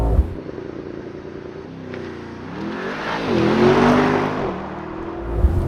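A 2023 Mercedes-AMG SL63 with traction control off does a race start launch, its engine idling, then revving up and surging hard in a loud, rising roar heard from the cabin.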